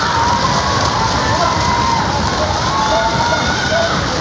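An arena crowd roars at the Manchester 2018 World Taekwondo Grand Prix women's +67 kg final, a loud, unbroken wash of cheering that holds steady throughout.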